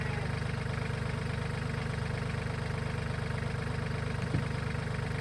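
A tractor engine idling at a steady, even rumble, close and constant with a faint mechanical rattle, running alone with no talk.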